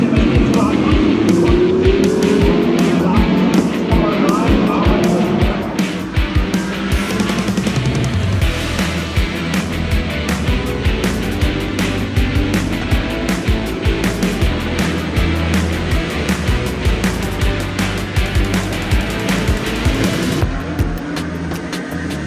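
DTM race cars at the Nürburgring race loudly past a spectator area, with continuous engine roar and a dense, crowded texture throughout.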